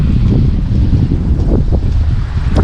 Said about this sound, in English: It's a little windy, so I apologize